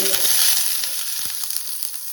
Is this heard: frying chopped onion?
yes